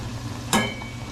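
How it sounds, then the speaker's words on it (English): Carrots frying in a pan for a Filipino pork dish: a low, steady sizzle broken by one brief, sharp stir or scrape, with no one talking. "So you can see the carrots frying."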